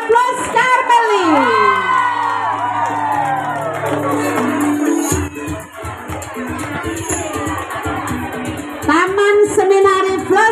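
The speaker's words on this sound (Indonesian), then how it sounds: "Tepuk tangan sekali lagi untuk TK Floskar Meli." A crowd cheers and whoops at a prize-giving ceremony for a kindergarten arts and culture competition, with children shouting and loud, continuous crowd noise, while a voice over the sound system speaks throughout.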